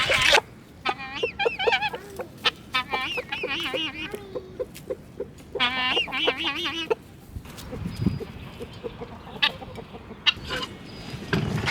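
Chickens cluck and squawk close by while being fed leftover eggshells at a spring cabin homestead, with bursts of agitated calls and wing flutters between quieter moments; a person speaks briefly in the background.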